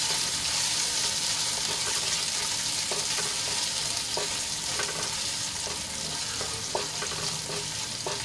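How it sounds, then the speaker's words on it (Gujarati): Green chilies and ginger sauté in hot oil with a dense, constant sizzle, while light spoon taps and stirring clicks come through now and then, near and steady throughout. "હવે તેલમાં સરસ રીતે થોડુંક સાંતળી લઈશું મરચાં અને આદુને"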